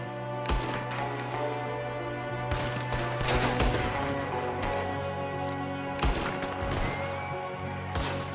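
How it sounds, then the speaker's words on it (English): Rapid gunfire during an ambush in Red Dead Redemption 2, with repeated loud shots and volleys over a constant background of horses and game sound. "There's another one shooting from the window!"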